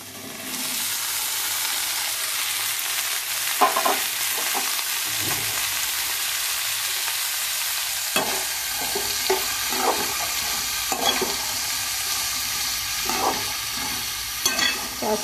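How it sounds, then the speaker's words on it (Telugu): Ridge gourd pieces sizzle loudly in a pan with onions, a steady hissing fry broken by repeated scraping stirs of a spatula, with no one talking. "తర్వాత బీరకాయ ముక్కలు వేస్తున్నాను."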